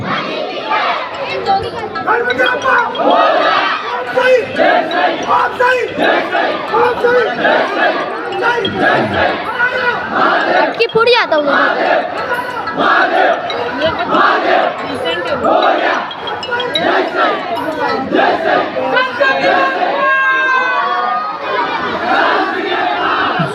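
A dense dahi handi crowd at an outdoor Mumbai celebration roars continuously for over twenty seconds, with chanting, shouts, shrill whistles and a brief voice over the din.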